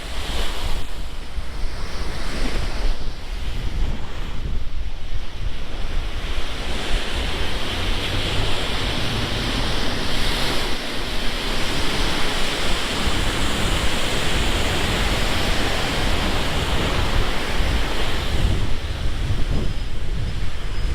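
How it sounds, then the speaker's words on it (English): Heavy ocean surf crashes continuously against the Swampscott and Lynn waterfront seawalls as Hurricane Lee passes offshore, with strong gusting wind buffeting the microphone throughout and no one talking. "I guess this is probably the water coming back in after being blown away from the coast."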